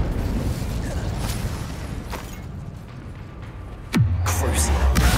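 An Incendio fire spell is cast in Hogwarts Legacy, a whooshing burst that ends in a sharp crack near the end over a busy, rumbling combat background, with spoken voices nearby.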